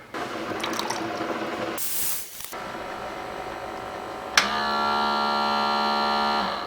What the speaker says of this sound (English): I'm just using the trusty Keurig with some inexpensive coffee from the store.